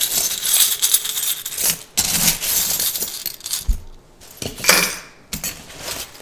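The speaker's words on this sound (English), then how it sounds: "So I'm going to just put some charms in this little chest here." Small charms dropped into a little charm chest, giving several bursts of bright metallic clinking and jingling with short quiet gaps between them, close and fairly loud, with no talk.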